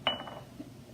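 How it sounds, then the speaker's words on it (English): Ice cubes clink into a glass of home-brewed kombucha, a single bright clatter near the start that fades quickly to quiet room tone. "I'm going to add these ice cubes in"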